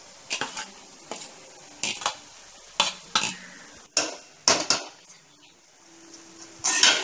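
Cooked basmati rice being stirred and tossed in a frying pan for fried rice, with about a dozen distinct scraping, clattering spatula strokes in an uneven rhythm over a faint sizzle, close and alone.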